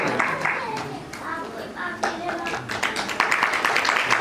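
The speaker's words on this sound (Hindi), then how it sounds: "आदि गोबर जी के लिए जोरदार तालियां" An audience at a Shrimad Bhagwat katha claps, a brisk burst of hand claps that swells toward the end, fairly close, with some voices mixed in.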